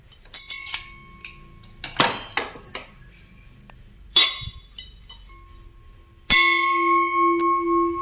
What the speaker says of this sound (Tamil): கோயில் மணி மாதிரி எப்படி சவுண்டு கேட்குதுங்க. நல்ல பியூர் வெங்கலம், நல்ல பெல் மெட்டல்ப்பா.